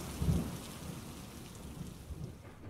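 A severe thunderstorm with heavy rain delivers a low rumble of thunder over a steady wash of falling rain that continues throughout.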